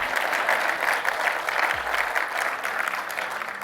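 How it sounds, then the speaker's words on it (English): A conference audience of mayors breaks into sustained, dense applause after a speech line about police officers, clapping steadily and loudly throughout with faint voices underneath. "You can clap for that."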